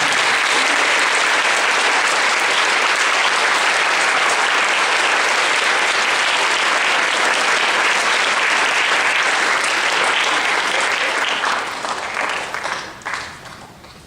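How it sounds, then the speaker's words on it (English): Sustained applause from an audience at a school Memorial Day program honoring staff who served in the military, loud and steady for over ten seconds before tapering off. "please join me in a round of applause for our staff members who have served our country"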